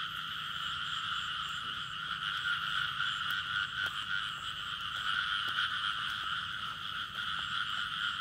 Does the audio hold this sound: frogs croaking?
yes